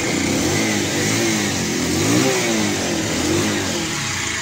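A two-wheeler engine, left unused for many days, runs loudly up close, holding a steady throbbing hum with gentle rises and falls in revs throughout.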